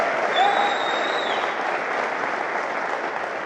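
Conference audience at a DEF CON hacking talk breaking into steady, dense applause that holds at an even level throughout, with a few faint whistles over the clapping and no speech.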